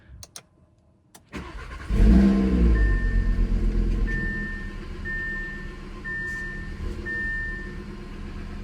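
An Audi RS3 is started for the first time after paddle shifters were fitted: a few clicks, then the engine catches with a loud burst and settles into a steady idle, while a series of short high warning chimes sounds over it.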